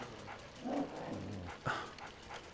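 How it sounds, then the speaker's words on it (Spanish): A dog barks in the Luigi's Mansion GameCube video game, with a couple of short yipping barks over a steady game-music bed, moderately loud and close. "Perro, date un baño."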